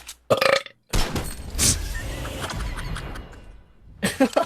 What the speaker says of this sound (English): Bro, was that a salami burp?